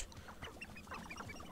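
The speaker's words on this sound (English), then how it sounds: "Those are chickens." Faint chicken clucks from the Hogwarts Legacy video game, a few soft, short calls heard at a distance over quiet game ambience.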